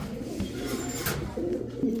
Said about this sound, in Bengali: এই যে দেখেন এখন একা একাই ডাকাডাকি করতেছে, দেখছেন?